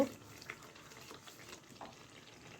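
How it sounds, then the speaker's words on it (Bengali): Spice paste with about two spoons of chilli powder fries in a pan for a chicken roast, a faint, soft sizzle broken by a few quiet stirring scrapes. "এখানে আমি দুই চামচের মতো মরিচের গুঁড়ো দিয়ে দিলাম দিয়ে মশলাটাকে বেশ কিছুক্ষণ কষিয়ে নেব"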